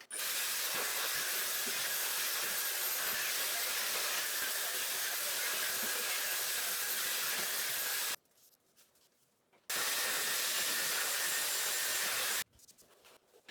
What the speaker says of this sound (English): So I'm gonna rough dry my hair using the Airwrap, medium heat,